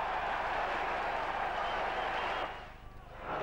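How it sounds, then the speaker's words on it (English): Travelling Norwich City football fans cheering and applauding a goal during a 1990/91 league match, a dense roar of crowd clapping and shouting that drops off near the end. "something at last for the travelling fans to cheer about"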